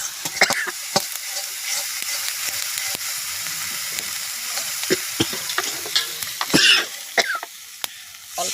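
Bhola fish curry base being sautéed in a pan, a steady close sizzle of frying with repeated sharp scrapes and knocks of a spoon stirring, plus a brief cough partway through.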